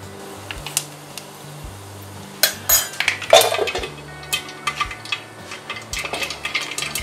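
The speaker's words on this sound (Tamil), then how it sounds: "ஸோ கடுகு நல்லா பொரிஞ்சிருச்சு" Mustard seeds splutter in hot oil: irregular crackling and sharp pops, close by, scattered over a steady low background, with bursts clustering in the middle.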